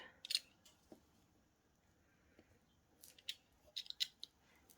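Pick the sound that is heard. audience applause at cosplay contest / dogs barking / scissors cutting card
scissors cutting card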